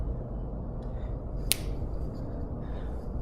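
A single sharp finger snap rings out once, mid-moment, over a steady low background rumble, with no voices around it.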